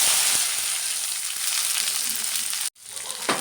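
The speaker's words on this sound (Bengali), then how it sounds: "ভেন্ডি ভাজার জন্য তেল দিয়ে দিলাম। এখন ভেন্ডিগুলো দিয়ে দিব" Okra sizzles loudly in hot oil in a pan, a dense steady crackle that cuts out abruptly for a moment near the end and then resumes.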